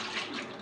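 A short, close rush of splashing water plays as a character enters water in the video game Noclip Backrooms.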